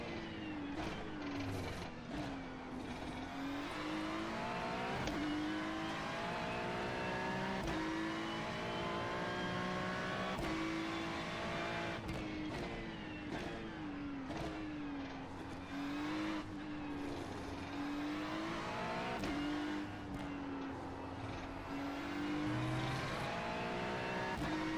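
Race car engine in a racing video game, revving and accelerating with steady rising and falling pitch, a continuous whining roar with occasional shifts and faint tire squeal, loud and close throughout.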